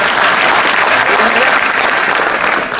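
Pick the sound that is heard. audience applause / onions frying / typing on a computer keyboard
audience applause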